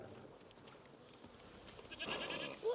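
A goat in the video game A Plague Tale: Requiem bleats once, faint at first then louder near the end, over a quiet, low ambient game background with no talking.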